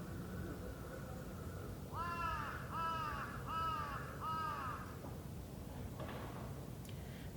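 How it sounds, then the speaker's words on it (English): Crows at Meiji Jingu Shrine in Tokyo give four clear, evenly spaced caws in quick succession over a quiet, hushed background, fairly close and distinct. "they have a lot of crows in Japan, especially in Tokyo."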